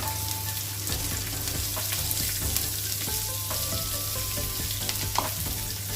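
Chopped onions dropped into hot oil already tempered with cumin seeds and bay leaf, frying with a steady, dense sizzle and a few stirring scrapes for an egg curry, close and continuous with no talk.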